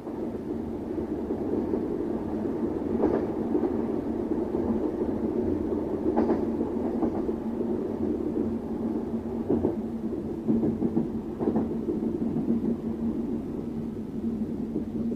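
A train running under braking with the driver's 3-step brake applied, a steady low rolling rumble broken by a few periodic clunks and knocks from the wheels and cars.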